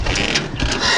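A motor tricycle in the Philippines is shifted into first gear during a driving lesson, giving a short burst of close mechanical clatter and engine whir lasting about a second.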